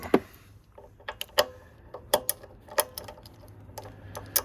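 Ratcheting clicks from a 5/16 tool loosening a front fork pinch bolt on a 2013 Suzuki Boulevard C90T motorcycle, a series of sharp, close metallic ticks spaced irregularly, some louder than others.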